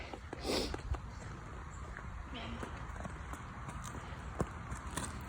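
A young mare ridden under saddle, her hooves clip-clopping at a walk with scattered soft thuds, fairly faint amid low background noise and a snort.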